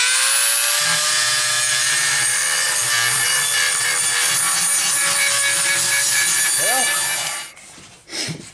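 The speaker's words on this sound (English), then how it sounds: "So I'm putting the sander back on my Dremel, and I'm going to work on the blade handle and take a little bit off of that." A Dremel with a sanding attachment grinds down the handle end of a stone knife blade, a high steady motor whine with a rough rubbing grind beneath, close by, then cutting off near the end followed by a few faint knocks.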